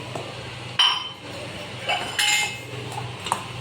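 Borugulu puffed-rice mixture being stirred with peanuts in a metal bowl: scattered metallic clinks and scraping rustles at an uneven rhythm, close by, with a faint voice in the background.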